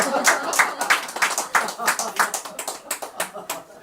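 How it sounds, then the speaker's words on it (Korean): A small audience claps in a quick, steady rhythm of distinct hand claps, close and moderately loud, repeating evenly for several seconds. "이럴 때 좀 박수가 나와야 되는데."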